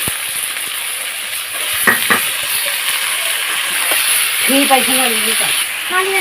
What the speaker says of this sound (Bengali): এটা ভালোভাবে একটু নাড়াচাড়া করে নিচ্ছি